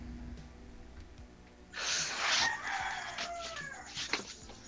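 A rooster crows at a moderate distance, one drawn-out call rising over a quiet background of faint noise.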